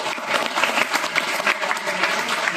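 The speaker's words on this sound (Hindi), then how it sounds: "एक बार प्लीज उनके लिए तालियां हो जाए" A school audience at an Independence Day function applauds for soldiers, with a short, steady wash of many hands clapping together at close range.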